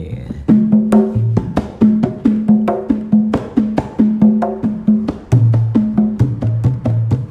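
A Javanese kendang is struck in the sekaran pilesan drum pattern, a steady run of crisp slaps and deep resonant booming strokes in a lively repeating rhythm, close and loud.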